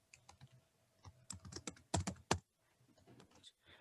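Rapid clicks of a computer keyboard as C++ code is typed, with bursts of keystrokes and brief pauses, fairly close and on its own with no talk.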